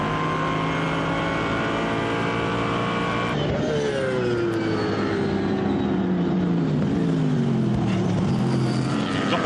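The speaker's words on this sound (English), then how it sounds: "Got the cars going through Brooklands, and now Hetherington on the inside of John" GT racing cars, including an Aston Martin and a Porsche, roar past at Silverstone circuit during a 2013 British GT race, engines whining and shifting pitch as they go by, one after another, loud and close with no talk.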